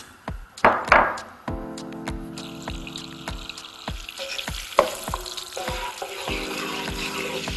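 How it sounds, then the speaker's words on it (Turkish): Melting butter sizzles and crackles steadily in a pot, before semolina and pistachios are toasted in it, with sharp metallic clinks and scraping taps recurring throughout. "Tereyağımız eriyip kızdıktan sonra dolmalı fıstıklarımızı koyuyoruz."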